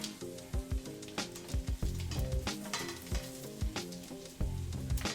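French toast frying in butter in a hot pan, a steady close sizzle with bright crackles and a few soft pops running the whole time.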